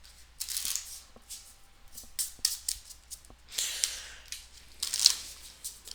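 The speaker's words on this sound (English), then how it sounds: "we're going to need to shuffle this deck up" A deck of cards is shuffled during a tabletop game playthrough, with a series of quick riffling bursts and soft taps, fairly close and quiet, repeating in irregular spurts.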